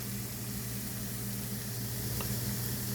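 Hashbrowns frying in corn oil in a pan give a steady, close sizzle and hiss that runs unbroken throughout.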